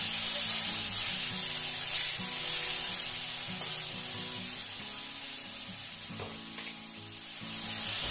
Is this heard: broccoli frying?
yes